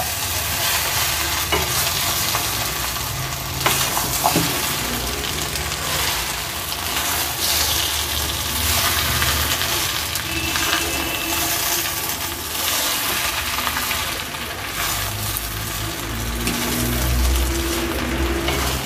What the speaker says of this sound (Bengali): এবার আমি একটু নাড়াচাড়া করে এর মধ্যে জলটা দেবো।